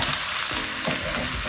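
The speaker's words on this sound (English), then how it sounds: "So I am sauteing these vegetables" Vegetable scraps saute in a hot pan, giving a close, steady hissing sizzle with faint crackles throughout a brief moment.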